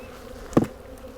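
Honeybees in a hive during a winter survival check after a hard freeze, a short close buzzing burst rising briefly above a faint hum, brief and alone with no talk.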